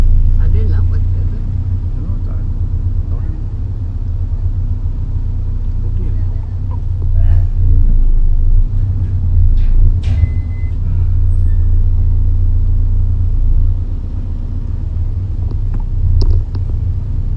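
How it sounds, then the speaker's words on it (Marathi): Vehicles, including a Force Gurkha, are driven and parked onto the Bagmandla ferry on the Konkan coast, with a heavy low engine rumble running throughout, occasional clanks and a brief beep, and voices talking nearby. "गाड्यांची आवाजाही चालू झाली, त्यांची लगबग चालू झाली गाड्या पार्क करायला"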